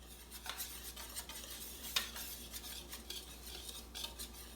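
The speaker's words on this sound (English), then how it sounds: "we're just going to mix it together until it's one consistency." Flour, salt and baking powder being mixed in a bowl for bacon-stuffed cornbread, heard as faint, soft scraping and light clinks of a utensil against the bowl, coming in an irregular rhythm with no voices.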